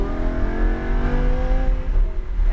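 A car accelerating hard on a driving track, its engine climbing steadily in a loud, close rising whine with rich harmonics, alone with no voices.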